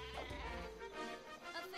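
Sheep bleating in the Worms: Clan Wars video game, a short wavering bleat heard fairly close and alone, with no talking over it.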